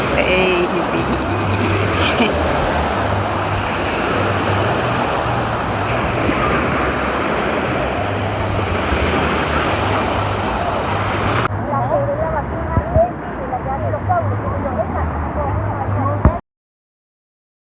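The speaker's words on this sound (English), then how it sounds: "That's the reason they call it the wave pool." Continuous broadband rush of churning water in a wave pool at Disney's Blizzard Beach water park, loud and steady, with crowd voices and people talking over it.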